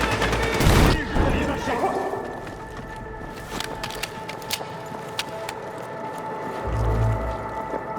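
In the video game Battlefield 6, a heavy grenade-like blast lands early, followed by scattered sharp gunshots and rattling fire in the distance, with a voice calling out amid the combat.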